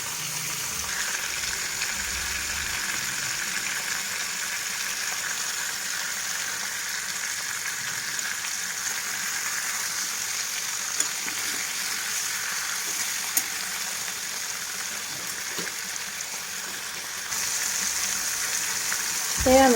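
Fish frying slowly over low heat in a little oil in a pan, a continuous soft sizzle and crackle that stays steady for the whole stretch, with a few faint clinks and a slight rise in hiss near the end.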